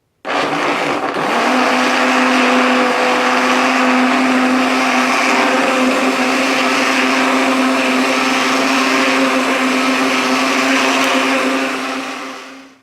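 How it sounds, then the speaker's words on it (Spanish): A kitchen blender runs at maximum speed for about twelve seconds, churning a mixture for a DNA extraction practical. The loud, steady motor whine holds constant and then winds down at the end. "Y vamos a proceder a licuar. Entonces, esto lo vamos a hacer a una máxima velocidad durante 15 segundos."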